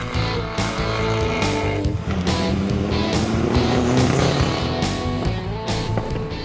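An all-wheel-drive stock Mitsubishi Evo 10 runs an autocross heat, its engine loud and close, revving steadily with brief breaks as the gears change throughout.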